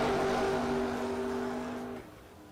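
Mopar Daytona or Charger race car at a drag event, a steady engine drone that fades and drops away near the end, heard at moderate distance.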